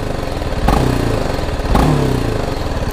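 A BMW G 310 GS single-cylinder motorcycle engine runs close by, idling steadily with two short throttle blips that swell and fall back.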